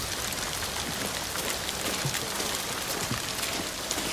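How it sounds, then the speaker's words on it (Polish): Steady, dense downpour of heavy rain in the video game Ghost of Tsushima, a constant hiss with scattered pattering drops, no voices. "Teraz pada mocno."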